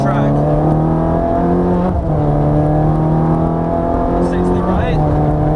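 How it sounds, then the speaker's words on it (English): Ferrari F430 accelerating on a track, its engine tone climbing steadily in pitch, then a brief dip at a gear change before it rises again, loud and near, with an instructor talking over it. "Start squeezing the throttle and using the full width of the track."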